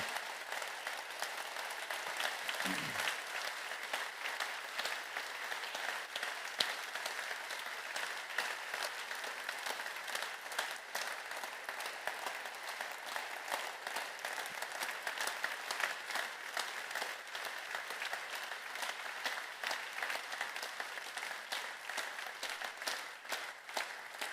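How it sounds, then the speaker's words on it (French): An audience at a New Year's address in Hainaut applauds in tribute, sustained, even clapping from many hands filling the hall for over twenty seconds with no talking. "on applaudisse leur mémoire, quelle qu'ait été leur nationalité ou leur origine."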